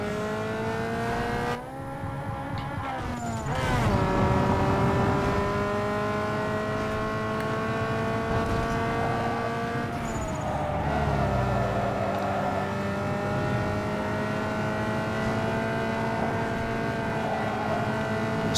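A tuned street car's engine in the racing game Need for Speed Underground 2 screams at full throttle on a hill climb, rising through gears with brief drops at shifts, loud and sustained throughout with no voices.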